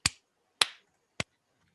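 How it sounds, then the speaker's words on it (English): Three slow, deliberate hand claps, crisp and close, spaced about half a second apart with silence between each, the last one slightly softer. "Slow clap."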